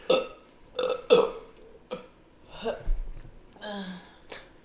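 A series of loud, close burps, several short ones and a few drawn-out, with brief gaps between them and no talking.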